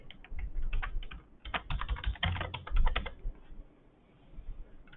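Fingers tap out a password on a computer keyboard in quick, uneven bursts of close, crisp key clicks, pausing briefly between runs with a final lone keystroke.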